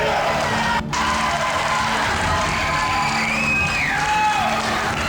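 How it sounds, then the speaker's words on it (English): A football crowd gives a loud, continuous roar of cheering and clapping for a Hall of Fame honoree, a dense wall of noise with a few whoops rising out of it. "Hey, give Joe a hey, clap on a hand here."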